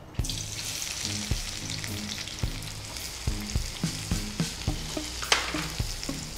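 Onions sizzling in hot oil for a tempering seasoning in a potato pulimunchi dish, steady crackling fry with regular stirring knocks against the pan, close and continuous, no talking.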